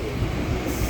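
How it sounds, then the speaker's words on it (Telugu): Passenger train on the Delhi to Haridwar route starting to move, a steady broadband rumble of railcars rolling along the track, close and continuous with no voices. "అదే బండి కదిలింది, ఢిల్లీ టు హరిద్వార్."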